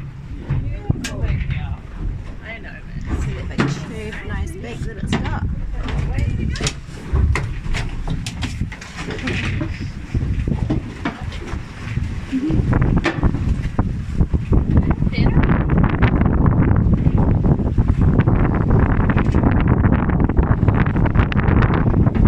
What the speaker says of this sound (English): out at sea at Taiaroa Head, where we've got about 30 knots of nor'easterly at the moment